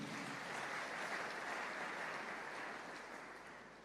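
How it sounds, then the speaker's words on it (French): Steady, dense applause from a church congregation praising the Lord, sustained and fairly loud throughout with no speech over it, easing slightly toward the end. "Acclamons le Seigneur."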